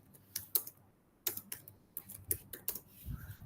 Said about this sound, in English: okay, I'm typing this for you guys.